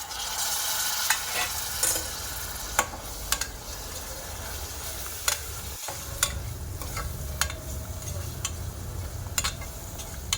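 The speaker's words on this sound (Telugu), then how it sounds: "చిన్న చిన్నగా కట్ చేసి పెట్టుకున్న టమాటాలు అయితే వేసుకోవాలి" Finely chopped tomatoes sizzling in a pan for tomato dal, a soft steady frying hiss with occasional sharp scrapes and clicks from stirring, close and moderately quiet, with no one speaking.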